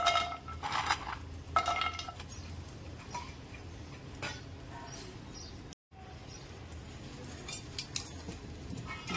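Dried lentil badi tossed and stirred in a dry wok, with light scraping and clinking of the pieces and utensil against the pan across the stretch, close and moderately quiet, with a brief silent gap midway.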